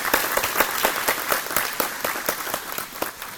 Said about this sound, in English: Would you please put your hands together and help us to welcome our guest speaker today, Lieutenant Colonel George Hardy.